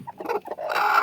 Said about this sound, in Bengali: এই দেখুন কতগুলো মুরগি তা নিয়ে বসে গেছে